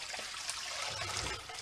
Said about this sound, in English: go ahead and put your hot water right in there